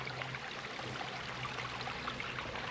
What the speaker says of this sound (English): That's the creek.